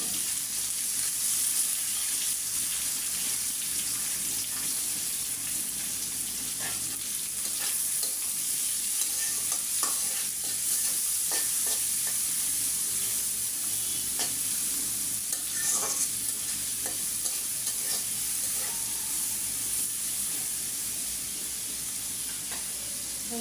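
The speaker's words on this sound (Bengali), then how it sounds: "আমি বেশি করে পেঁয়াজ দিয়ে দিই" Onions frying in a pan at the start of a spicy chicken curry give a steady, close sizzle with occasional stirring scrapes and clinks, running continuously with no talking.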